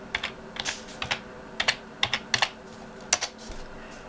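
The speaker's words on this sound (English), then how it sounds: "It's a bit hard typing with one hand." Computer keyboard typed one-handed, heard up close as sparse, irregular clusters of sharp key clicks with short pauses between keystrokes, over a low steady room hum.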